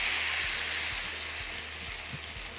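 Curd mixture poured into a hot pan with cardamom, kalonji, cloves and green chilli gives a steady close sizzle, a broad hiss holding throughout with faint low knocks underneath.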